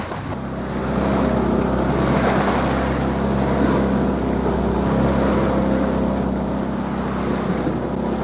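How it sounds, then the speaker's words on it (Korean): A motorboat engine drones steadily and loudly at sea during a traditional whale hunt off Lamalera, a constant low rumble mixed with wind and wave wash, with no talk. "시끄러운 모터 소리는 위험을 알리는 일종의 경고음이다"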